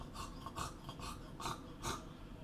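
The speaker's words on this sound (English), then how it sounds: "He just sits there panting" Faint, rapid panting from a stressed pet dog, a close rasping breath repeating about every half second in short, even bursts.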